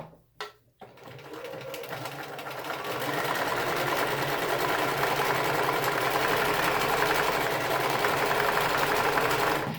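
A home sewing machine runs a decorative stitch, feeding the fabric forward and back; after a brief start, a steady, close whirring hum continues without pause.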